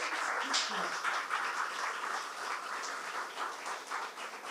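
A church congregation gives a round of applause, a dense, even rush of clapping that holds steady and eases slightly at the end.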